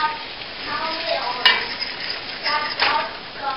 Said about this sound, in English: melt the butter, add some whole wheat flour or white flour, and you mix it up until it kind of thickens a little bit